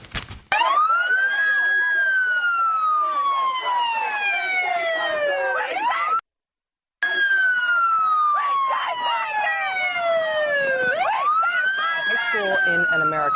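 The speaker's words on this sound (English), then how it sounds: "the police turned on the sirens of their police cars to drown out the girls' voices" Police car sirens wailing loud and close in an American city street, long rising and falling sweeps repeating with a brief cut in the middle.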